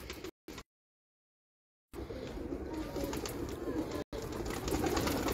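Pigeons coo softly from a rooftop loft, faint repeated low calls in a quiet setting, interrupted by several dropouts.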